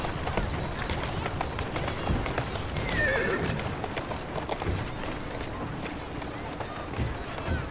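In Assassin's Creed Syndicate, a horse whinnies while hooves pound in a fast gallop, over a busy layered game soundtrack with a faint crowd murmur.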